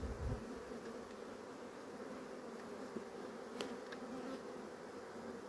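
Weak honeybees in a hive damaged by varroa mites drone in a steady, continuous buzz, faint and even throughout with a few small clicks.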